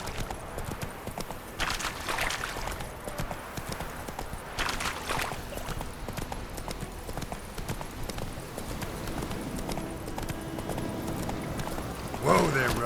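Roach the horse gallops in The Witcher 3, rapid hoof clip-clop running continuously up close over game music, with a brief louder thump near the end.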